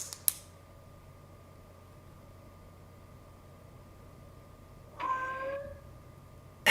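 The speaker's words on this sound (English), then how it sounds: "My cat trying to get in." A house cat trying to get in gives one short meow partway through, fairly close but quiet, over a steady low fan-like hum, with a couple of faint clicks at the start and end.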